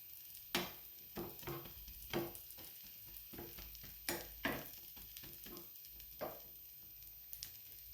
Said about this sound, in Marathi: आणखीन याला थोडंसं भाजून घेऊयात.